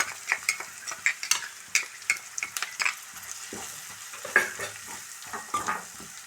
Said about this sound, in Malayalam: അപ്പോൾ നമ്മൾ വെച്ച സവാളയൊക്കെ നേരിയതായിട്ടൊന്ന് ഫ്രൈ ആയിട്ടുണ്ട്.